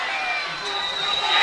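A crowd roars at a Dublin Senior 2 hurling final, a steady broad wall of cheering that builds slightly toward the end, heard from within the stands.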